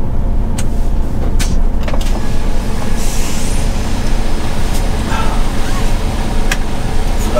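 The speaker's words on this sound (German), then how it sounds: "Reicht, wenn ich hier zurückwärts fahre." A vehicle reverses with a loud, steady engine rumble close by, broken by a few sharp hissing releases that sound like air brakes, while a voice is briefly heard.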